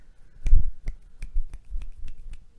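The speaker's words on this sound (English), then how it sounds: "Try to clap and get all 3 of your fingers or all 4 of your fingers to slap the palm of your hand" One-handed claps during a drumming lesson, fingers slapping against the palm: about eight sharp, close snaps in an uneven sequence, the first the loudest and the rest quicker and lighter.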